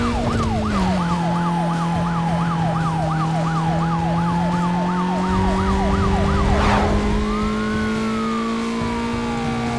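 A police car siren from the Need for Speed Most Wanted video game wails in a fast, steady yelp, then shifts to a slower rising tone, over a continuous engine drone.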